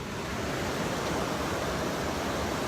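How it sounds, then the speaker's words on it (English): A waterfall in Austin, Texas pours as a constant broadband rush, steady and fairly loud throughout with no pauses or voices. "I'm by a waterfall"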